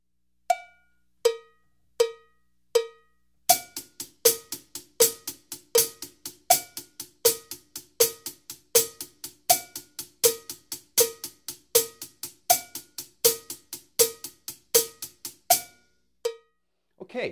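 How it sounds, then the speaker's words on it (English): Drum kit hi-hat playing a steady stream of eighth-note triplets for a blues shuffle lesson, crisp, even metallic ticks after a few spaced opening strikes, played alone with no talking. "I'm going to give you an example of a steady flow of eighth note triplets on the hi-hat."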